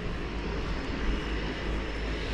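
A fixed-wing airplane arriving at a lodge in Rivers Inlet, its propeller engine droning steadily with a low rumble, moderately distant and fairly quiet throughout, with no talking over it.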